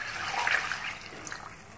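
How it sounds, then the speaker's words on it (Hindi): Water poured into a pot of rice with salt for a simple Bihari pilau, a steady splashing pour of liquid heard up close for a couple of seconds with no voice over it. "ये देखिए अब मैंने इसमें पानी डाल दिया,"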